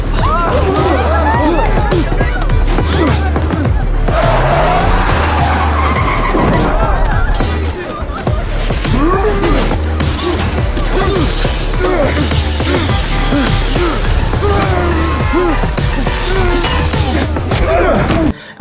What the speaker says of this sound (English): Now this is the sound from the trailer for the bus action scene